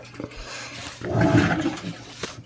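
Water surging and splashing inside a washing machine with live bass in it, a loud rushing swell building in the middle of the clip and then easing off, with no talking.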